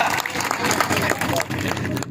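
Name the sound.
audience clapping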